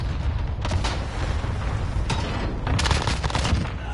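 Repeated gunfire in the shooter game Warzone, several distinct bursts of rapid shots at a moderate level over a constant rumbling background.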